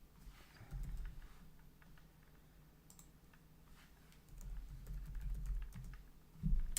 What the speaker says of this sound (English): That's what we're typing in right here.